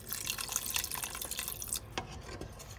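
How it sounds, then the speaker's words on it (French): Water pouring into a graduated cooking pot, a splashing, gurgling stream that thins out partway through, leaving a few drips and small splashes. "Voilà, j'ai rajouté 2 litres d'eau à peu près."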